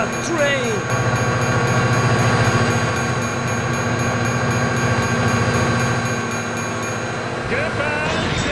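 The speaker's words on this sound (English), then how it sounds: "Oh my god, train!" A train rumbles past in the BeamNG.drive driving game, its steady clattering roar filling most of the clip at close range before cutting off near the end, with game sounds layered over it.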